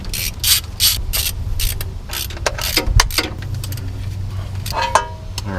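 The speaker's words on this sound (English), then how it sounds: "just removing the bolts. They are 1/2 inch, so you can go on ahead and just get a 1/2 inch socket and a ratchet" Ratchet with a 1/2 inch socket backing out valve cover bolts on an engine: quick bursts of clicking pawl strokes, close and distinct, separated by brief pauses.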